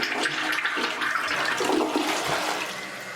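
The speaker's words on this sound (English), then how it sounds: "If we press it, it flushes real quick" Tornado dual-button toilet flushing fast and forcefully, a close, loud rush of swirling water that holds steady for a few seconds before easing slightly.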